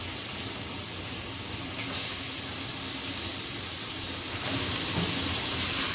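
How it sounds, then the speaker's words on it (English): Onions sizzle in 3 to 4 tablespoons of oil in a small pot over medium heat, a loud, steady, bright frying hiss that runs unbroken throughout with no talk. "we're going to add our onions straight in."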